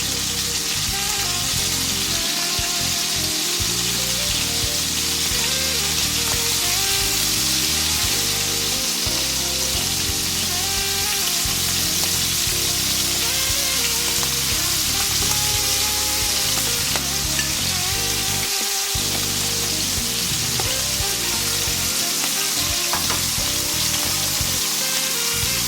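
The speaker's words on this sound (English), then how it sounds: "I'm cooking these at a medium-high heat for just a few moments on each side." Seafood such as lobster tails, calamari, prawns, scallops or oysters fries in a pan over medium-high heat, with a dense, continuous sizzle that stays loud and close the whole time and has no talking over it.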